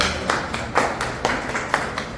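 Clapping at a senior citizens' club executive meeting: a handful of distinct, evenly spaced claps in a slow rhythm, fairly close and clear with no talk over them.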